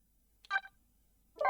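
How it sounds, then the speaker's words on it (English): Two short bursts of telephone dialing tones in the Ghost Trick video game, each lasting a fraction of a second and separated by a near-silent pause, heard close and clear. "he's going to make a second phone call in a moment"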